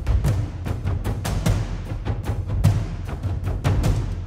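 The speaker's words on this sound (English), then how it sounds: "Adding the taikos, we will gain a little bit of punch." Orchestral trailer drums with added taiko drums pound out a dense, punchy rhythm of heavy low strikes and bright accents, loud and continuous throughout with no voices.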